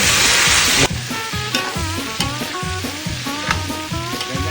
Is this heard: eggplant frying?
yes